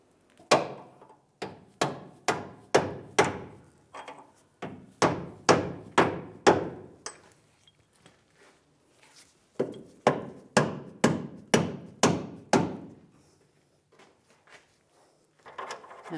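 A hammer taps a leaf spring into place on a 2007-2013 Chevrolet Silverado 1500, striking metal in two long runs of sharp, evenly spaced blows close up, with a short pause between runs and no talking.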